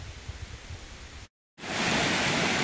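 Keir Falls, the smallest waterfall at the top section of the Bellthorpe heritage falls, gives a steady broadband rush of falling water that cuts out briefly and returns louder and fuller.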